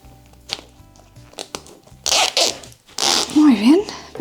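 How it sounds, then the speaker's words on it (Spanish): Zipper handled and rustled while being fitted to a flat patchwork pouch or pencil case, with short scrapes and taps early, then louder zip pulls in two bursts near the end; a voice briefly rises over the handling. "Ahora es el momento de poner la cremallera."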